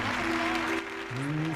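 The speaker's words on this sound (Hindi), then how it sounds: "सभी जन तालियों के साथ" A church congregation claps along loudly over a sung or spoken voice and a held musical tone, a dense, continuous patter of hands close to the microphone.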